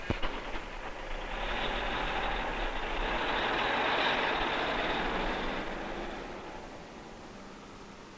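A diesel tractor truck pulls a loaded trailer away with a steady, broad engine roar that swells gradually and then eases slightly. It sounds fairly loud and continuous, with no voices.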